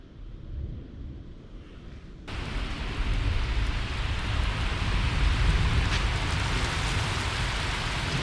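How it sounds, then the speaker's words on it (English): Steady rain falling outdoors, a dense hiss that starts softer and then swells abruptly to a loud, continuous downpour, with no voices. "we got some rain right now"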